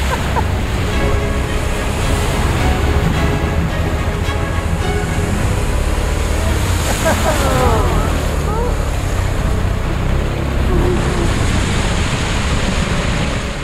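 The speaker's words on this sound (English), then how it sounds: "But we are plowing through this water like a speedboat." KTM 250 ADV motorcycle plowing through flood water in Malaysia, a loud continuous wash of churning water and wind over the steady drone of the small engine, with people talking intermittently.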